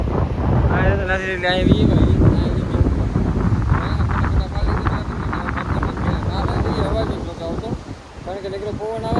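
Strong sea wind buffets the microphone beside the shore at a ship-breaking yard, a loud continuous roar with someone talking over it throughout.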